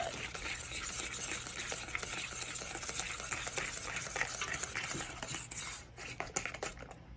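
Fruit pizza mixture being whisked in a bowl, a quiet, fast, rhythmic patter of whisk strokes with a few light clinks, close and continuous with no voices.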